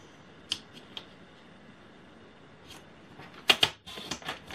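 Paper is cut for a handmade mini album, heard as a few faint, sharp snips and light paper rustles close by, with a brief cluster of crisp cuts toward the end and no voices.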